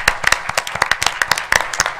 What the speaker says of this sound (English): So I just like to give them a round of applause for everything they've done